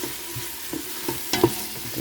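Celery being stirred in a soup pot on the stove, heard as a few soft, scattered scrapes and clacks over a faint sizzle, with no talking.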